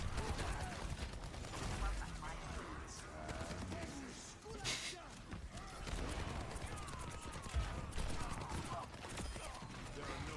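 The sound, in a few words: gunfire from players shooting in a video game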